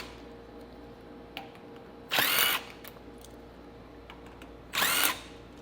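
Two short bursts from a power drill backing out T15 Torx fasteners under the front of a 2024 GMC Canyon, each a whirring spin of under a second with quiet pauses and a faint click between.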